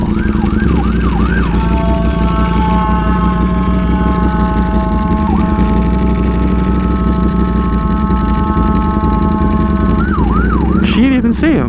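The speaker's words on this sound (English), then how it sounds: "Sorry, the ambulance." An ambulance siren sweeps up and down loudly, then holds steady tones before wailing again as the ambulance goes by over a constant engine rumble.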